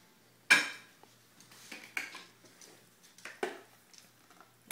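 Cauliflower mash scraped and spooned from a food processor into a serving bowl, with a sharp utensil clank on the dish followed by scattered softer taps and scrapes at an irregular pace.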